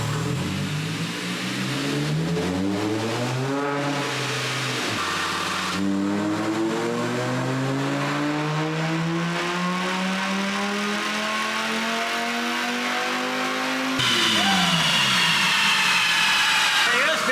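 A car fitted with a stainless exhaust revs hard on a dyno, the engine note climbing in long sweeping pulls that drop back and rise again, loud and close with speech faintly underneath.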